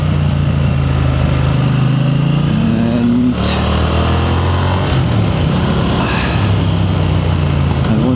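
A Triumph Speed Twin 1200 RS motorcycle ridden hard along winding twisty roads, its twin engine loud and continuous with rising and falling revs as it accelerates and shifts, plus steady wind rush.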